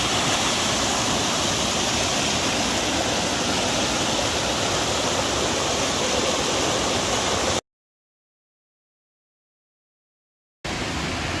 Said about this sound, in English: Cooper Brook Falls.